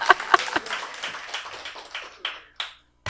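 An indoor audience claps to welcome a guest, starting with a brisk burst of reverberant applause that thins out into a few scattered, isolated claps before falling quiet.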